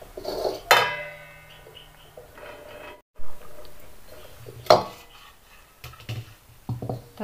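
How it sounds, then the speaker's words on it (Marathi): Amla pieces and sugar syrup are poured through a sieve into a pan in a home kitchen for amla candy, giving several clanking knocks of metal utensils with soft liquid and scraping sounds between them, nearby and without talk. "आता आपण हे आवळा आणि पाणी असं वेगवेगळं करून घेऊ।"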